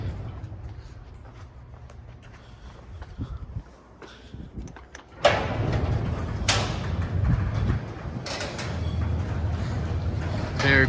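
A Sommer 2060 evo+ garage door opener on temporary power runs steadily on an unoiled door, a smooth low mechanical hum with a few clicks and knocks, fairly close and moderately loud, starting abruptly partway through.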